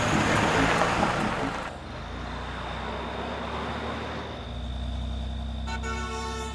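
A vehicle engine revs and drones as it pulls away, loud at first and then a steady lower hum, with a car horn toot at the end.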